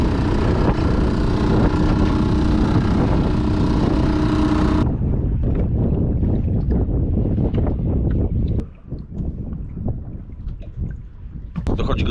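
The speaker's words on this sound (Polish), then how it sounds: "No wieje i wieje i, i wieje coraz większy, no." Strong wind blows across open water at Siemianówka reservoir during a fishing trip. The broadband roar is loud and steady at first, then turns gustier and buffets the microphone. No one speaks over it.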